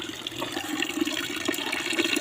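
Water gushes steadily from a pipe supplied by a waterfall, a continuous splashing rush that stays even and fairly close throughout, with no talking.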